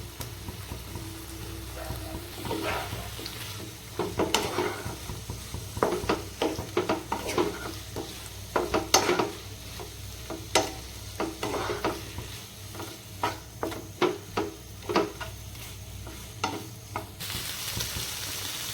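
Raw banana curry being stirred and fried in a pan, with a steady sizzle underneath and repeated close scraping clacks of a spoon against the pan, no voices.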